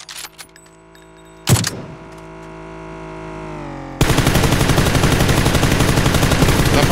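PUBG gunfire: a single sharp shot early on, then a vehicle engine rising, followed by a loud, rapid automatic burst of shots filling the last few seconds.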